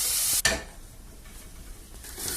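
Small onions hit hot oil with a sudden sharp splash and burst of sizzle, then settle into a quieter, steady frying hiss with light stirring.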